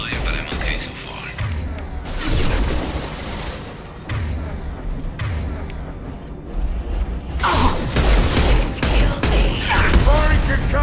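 Gunfire and booming blasts from the video game Mass Effect 2 during a firefight, with dense, continuous volleys and whooshes that swell louder near the end.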